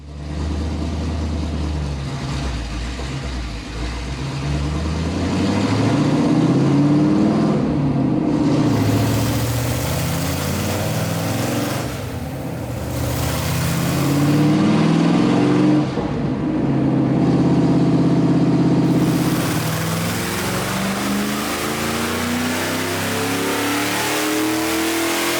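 A 1967 Shelby GT350 Mustang V8 roars on a dyno with air cleaner and tailpipes removed, loud sustained revving that climbs and eases in two long pulls, close and dominant without talk.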